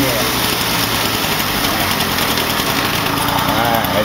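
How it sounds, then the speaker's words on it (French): A Peugeot BB1 CT moped engine runs close by at a fast, steady pace, a dense buzzing drone holding an even loudness throughout with no clear rise or fall. "C'est parce que le moteur est tellement vite, c'est normal."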